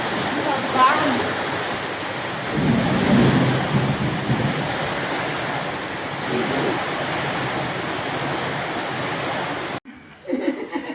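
Heavy rain pours down steadily, with a low rolling rumble of thunder underneath and a voice speaking briefly over the downpour before it cuts off.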